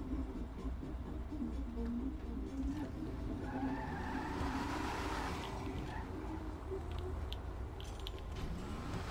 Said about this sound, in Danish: Drag race time.